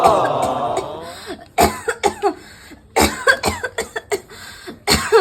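Harsh, forceful coughing from someone unwell at a doctor's visit: a strained, voiced opening followed by several clustered bursts of hacking coughs, close and loud, with short gaps between fits.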